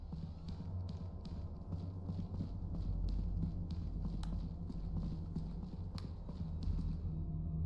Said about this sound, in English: I heard him stomping.